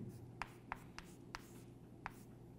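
Chalk or pen writing on a board during a geometry lesson, five or six short, crisp tapping strokes at an uneven pace over a low steady hum, close and quiet.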